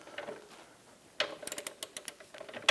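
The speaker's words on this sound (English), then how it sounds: "we're going to torque down the nut to 114 foot-pounds" A wrench ratchets on a cam bolt nut of a Hummer H3 during a camber kit install, a faint set of quick metallic clicks arriving in short bursts against a quiet background.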